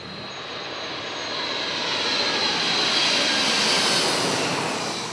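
An airplane's engines drone through flight and landing, a broad steady roar that swells gradually and holds loud, heard from the cabin with no talk.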